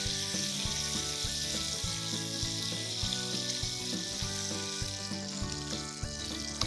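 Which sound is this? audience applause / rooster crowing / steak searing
steak searing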